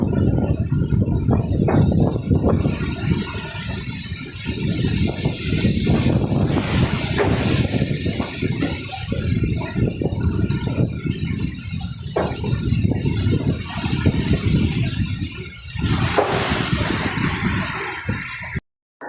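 Strong gusts from Typhoon Uwan roar and buffet the microphone in loud, continuous blasts with brief lulls, sometimes rising to a heavy rumbling rush before cutting off abruptly.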